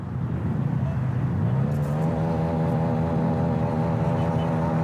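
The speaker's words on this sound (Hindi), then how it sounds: "ये बर्नआउट का प्रदर्शन चल रहा है" A motorcycle does a burnout demonstration at a Sunday group ride, its engine droning loud and continuous, then rising to a higher sustained pitch, with people talking nearby.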